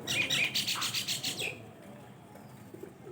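Bright, rapid myna chirps repeat in a quick burst for about a second and a half inside a pigeon coop, then fade into quiet background with soft rustling.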